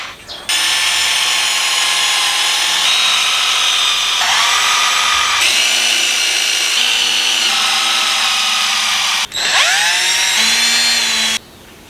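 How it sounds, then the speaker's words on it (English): A power drill driving screws into wood for a table-saw crosscut sled, with a loud continuous high whine that shifts pitch as it loads, stopping briefly before a final run. "Put a few screws in."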